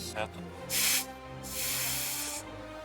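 Bicycle tire being filled at an air station, with short bursts of hissing air, a brief puff followed by a longer steady rush, close by.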